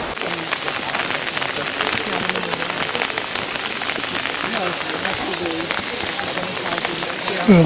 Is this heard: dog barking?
no